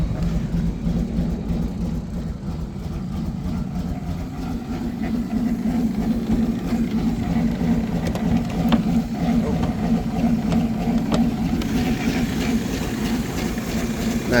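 A BMW E31 850i's engine idles steadily after sitting abandoned for 15 years, a continuous low rumble with a faint whirring note and slight ticking.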